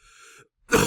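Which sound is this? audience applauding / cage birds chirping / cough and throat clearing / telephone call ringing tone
cough and throat clearing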